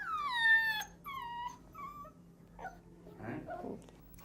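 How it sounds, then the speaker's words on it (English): Puppies up for adoption at the Humane Society of Harris County whimper in a few high, drawn-out cries, close and fairly clear, followed by softer shuffling noise. "These puppies are up for adoption at the Humane Society of Harris County."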